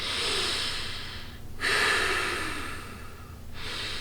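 Loud forced breaths, close up: a long noisy inhale-exhale, a brief pause, then another heavy breath beginning.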